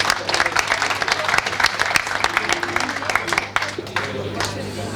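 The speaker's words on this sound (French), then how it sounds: "Les applaudissements pour elle." Audience applause at a closing ceremony for diocesan training courses, a steady wash of many hands clapping throughout, with a voice or two faintly heard beneath.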